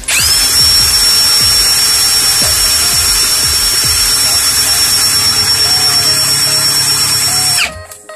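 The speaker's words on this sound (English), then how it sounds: "it's faster if you do it with the drill gun" A power drill driving a drain auger through a clogged kitchen sink drain whines at a steady high pitch for several seconds, spinning continuously up close, then winds down and stops.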